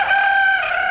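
Rooster crowing on a broiler chicken farm, one sustained loud call held steady for a full second, close and alone.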